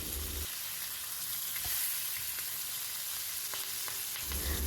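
Kili meen fish frying in a pan with curry leaves, a dense, even sizzle throughout with a few soft clicks as pieces are turned, close but fairly quiet, with no talking.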